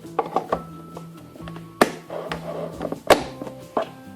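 A lid is set onto a pellet pump container, giving a few close, hollow plastic thunks and taps with short pauses between them and no talking.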